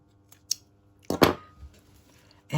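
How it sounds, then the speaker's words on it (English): Scissors snip sewing thread twice in quick succession, a light click followed by a louder close cut, with faint handling noise around them and no voices. "take my thread to the inside, and I trim it off in there."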